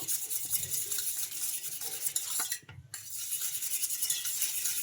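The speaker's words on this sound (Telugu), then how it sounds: "బాగా ఇలా కలిసిపోయే వరకు బాగా కలుపుకోవాలి" A fork or spoon stirs egg and wheat flour batter in a bowl with soft, quiet scraping and light clinks. A brief hush falls midway before the stirring resumes.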